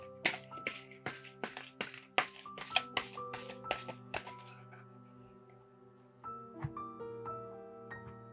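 Tarot cards shuffled by hand in a quiet room, a rapid run of crisp riffling snaps for about four seconds, then a few softer scattered taps and slides of the deck.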